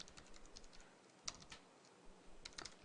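Someone types on a computer keyboard, a quiet run of close key clicks with a few louder taps, and no voices.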